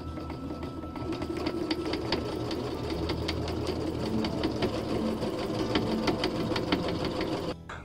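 A sewing machine runs steadily, stitching bodice lining pieces together for a Renaissance-faire style gown, with a continuous close mechanical whir and rapid rhythmic needle clatter that stops abruptly near the end.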